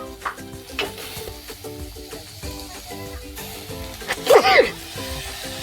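Tomato goes into a pan of frying ghol bhaji greens, bringing a brief louder sizzle and clatter near the end over a steady background hum, with a sneeze-like burst nearby.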